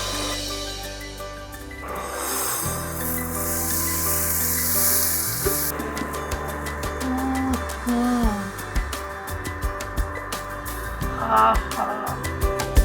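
Hot garlic tempering is poured over chicken dhansag, setting off a loud burst of sizzling hiss that then settles into steady frying crackle, with background music underneath.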